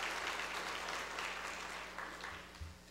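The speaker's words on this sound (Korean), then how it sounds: "우리 준비하신 또 수고하신 분들에게 한번 감사로 박수합시다" A church congregation claps in thanks for the volunteers who decorated the sanctuary, a full, steady round of applause over a low room hum that thins slightly toward the end.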